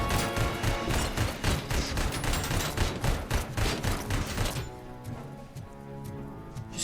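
Rapid, dense gunfire in RoboCop: Rogue City, with rounds punching through walls, rattles loudly for several seconds, then cuts off into a quieter rumble.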